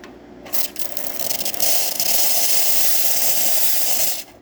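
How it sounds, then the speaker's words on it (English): A Rocket Cellini espresso machine's steam wand, freshly serviced after a full tune-up, hisses loud and steady. The hiss starts after a brief pause, holds strong for about three and a half seconds, then cuts off. "Let's test the steam."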